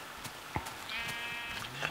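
A video game sheep gives a short quavering bleat, fairly faint, amid a quiet background with a couple of soft clicks.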